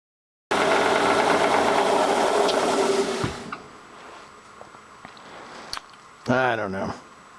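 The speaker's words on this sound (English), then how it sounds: "let's go cut this knob off of the end and trim that back a little bit" A power tool cuts a knob off the end of a metal handle piece: a loud, steady grinding whir for about three seconds, then winding down to quieter clicks and a brief final buzz.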